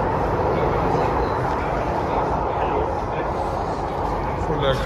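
Steady rumble of a Delhi Metro train in motion near Jahangirpuri, a dense continuous roar with clattering underneath, filling the whole stretch without pause.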